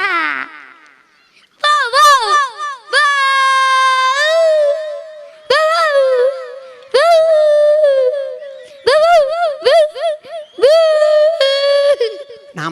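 On a comedy stage, a man imitates a dog with his voice, giving a string of loud, drawn-out howls and yelps in several bursts separated by short pauses.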